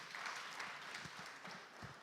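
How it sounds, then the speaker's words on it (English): Faint, steady applause from a conference audience fills the short moment, distant and even. "A round of applause for him"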